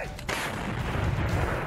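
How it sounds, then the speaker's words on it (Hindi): A Russian 2S7 Malka self-propelled artillery gun fires in the field: one sudden heavy blast, then a long, loud rumbling roar that carries on to the end with no further shots. "इस वीडियो में रूसी सेना 2S7 माल्का नाम की इस तोप का इस्तेमाल करती दिखाई दे रही है।"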